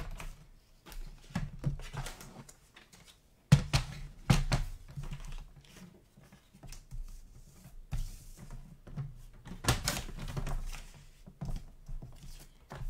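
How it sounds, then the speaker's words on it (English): A paper trimmer slices through cardstock in a series of sharp, close clicks and short scraping strokes, irregular and fairly loud, with quiet pauses in between. "I'm just trimming off at the side here"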